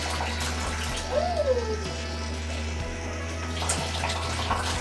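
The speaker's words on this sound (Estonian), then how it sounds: "See on tulikuum vesi, see tuleb otse boilerist." Scalding hot water pours straight out of a water heater's valve in a steady, close rush of flowing water, with a brief whistle-like tone over it.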